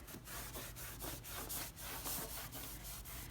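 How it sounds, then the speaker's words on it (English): A dry cloth rubs back and forth over painted wood to wipe off petroleum jelly, giving a quick, even series of close scratchy strokes with no talking. "go over with a dry cloth and just wipe away the areas that I have the petroleum jelly before it gets too dry"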